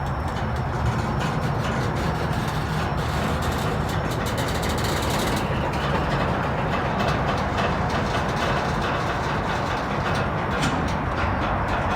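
A northbound train passes with a loud, steady rumble and roar of rolling wagons that persists throughout, heard close without any voices.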